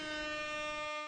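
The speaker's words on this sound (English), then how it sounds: "we got to do the air horn." A brief, loud air horn sound effect blares as one steady, sustained blast with a rich buzzing tone, cutting off just after a second.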